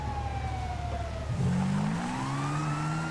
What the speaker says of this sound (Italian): Ah no, è un'ambulanza, pensavo fosse la polizia